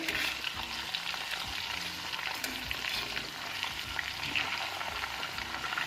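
Steady, close sizzling of quail pieces frying in a pan for quail biriyani, with the hiss of hot oil and occasional stirring scrapes as the pieces are turned, no voices.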